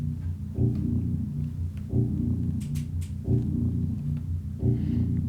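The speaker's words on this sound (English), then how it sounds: "really ominous kind of repeating tone" A low-end synth tone pulses in an ominous, repeating pattern, a dark, steady hum that swells roughly every 1.3 seconds, heard alone without voices.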